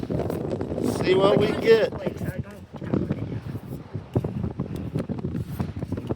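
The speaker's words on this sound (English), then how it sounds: "It's too windy." Strong wind gusts buffet the microphone outdoors, a steady low rumble under close talking by several people throughout.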